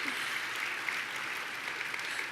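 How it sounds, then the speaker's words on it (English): Applause from an audience at a live honorees event, a steady, dense wash of many hands clapping, fairly faint and distant, continuing evenly without a break. "go ahead and applaud"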